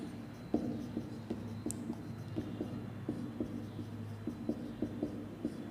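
Marker or chalk strokes on a board during a geography lesson, a series of short scratchy taps and squeaks spaced irregularly over a steady low room hum, with no talking.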